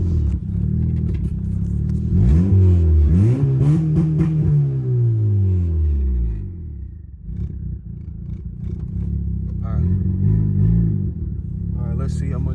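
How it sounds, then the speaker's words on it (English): Turbocharged Honda Accord with a K24Z3 engine revs up and back down with a rising and falling pitch, loud and close over a steady idle rumble, followed by a few lighter blips. "Get a little rev going."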